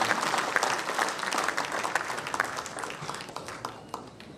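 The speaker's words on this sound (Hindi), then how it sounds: "एक बार जोरदार ताली बजाकर नरेंद्र भाई मोदी जी" Loud, dense applause from a large crowd at a political gathering, cheering a tribute to Narendra Modi, with sustained clapping and scattered sharp claps throughout, no talk over it.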